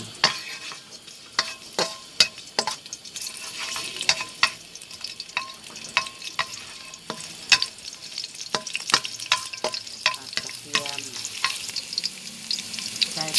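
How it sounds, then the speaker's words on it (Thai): Garlic sizzles and crackles in hot oil in a pan as a stir-fry of snow peas begins, with sharp scraping stirs at irregular moments over a steady frying hiss, close and alone. "ใส่ น้ำมันลงไป ใส่กระเทียม"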